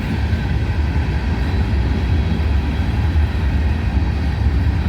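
Railroad freight cars rolling past close by, many of them privately owned, making a continuous loud low rumble and clatter that holds steady throughout.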